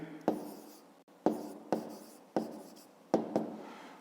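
A pen moves across paper in a quiet room, with five or six sharp strokes, each a scratchy attack that fades, spaced unevenly over a few seconds and heard alone.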